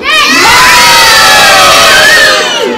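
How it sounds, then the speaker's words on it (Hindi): Loud chorus of many children screaming together during a storytelling session, a sustained high-pitched group shriek that swells and holds for nearly three seconds before easing off, with no talking over it. "आप चीख मारेंगे। कैसे चीख मारेंगे?"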